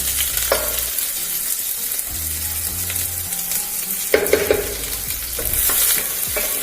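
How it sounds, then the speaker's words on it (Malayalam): Chopped red shallots frying in hot coconut oil for a Kerala-style beef roast, a steady close sizzle with occasional stirring scrapes and clinks from a utensil in the pan. "വെളിച്ചെണ്ണ ചൂടായി കഴിയുമ്പോൾ അതിലേക്ക് നേരത്തെ എടുത്തു വെച്ചിട്ടുള്ള 1/2 കപ്പ് ചുവന്നുള്ളി ചെറുതായി അരിഞ്ഞ്"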